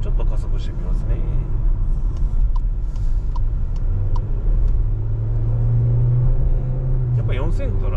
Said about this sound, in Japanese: ちょっと加速してみますね。